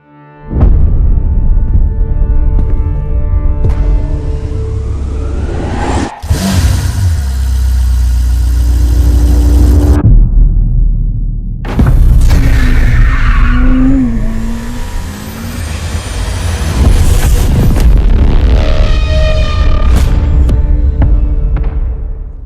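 A Ferrari 849 Testarossa plug-in hybrid supercar with a 4.0-liter twin-turbo V8 roars through several loud revving bursts, with sharp gear-change breaks, rising engine pitch and brief lulls between pulls.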